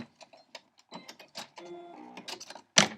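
A sewing machine stitches along a fabric edge of fleece and flannel quilt batting, giving a short burst of quick mechanical whirring and clicks with a louder clack near the end.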